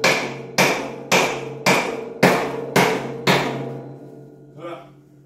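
Seven sharp hammer blows strike a wooden block while stainless steel table legs are fitted onto a Vevor work table, evenly spaced and close, each ringing briefly before the next, with a faint voice at the end.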